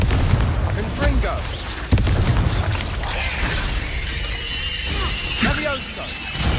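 Spell blasts and explosions crackle and boom in the Hogwarts Legacy game, with a sharp hit near two seconds amid dense, continuous combat noise and spoken incantations.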